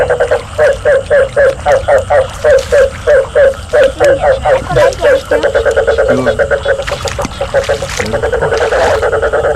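A frog calls from a corner of a garden field after the first rains, a loud, close, rapid series of rhythmic croaks that runs on steadily, with people talking over the latter part.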